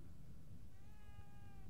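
A cat in The Evil Within 2 lets out a single drawn-out meow, clear and fairly close, over a steady low rumble of game ambience.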